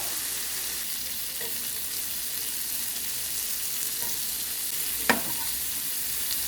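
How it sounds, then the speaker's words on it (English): Shrimp frying in butter with minced garlic in a pan, a steady soft sizzle throughout with a brief clink or stir near the end. "we are going to allow the shrimp to cook for about 2 to 3 minutes on each side"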